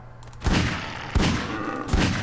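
Magnum revolver shots in a GMod horror map, three loud, sharp reports spaced roughly a second apart, each followed by a short ringing tail over a low background hum.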